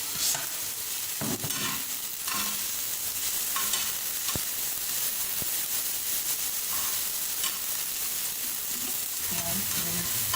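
Green chillies, tomato and green onion fry in a pan with a steady sizzle and crackle, punctuated by the scrape and clatter of stirring at a moderate, close distance; no speech.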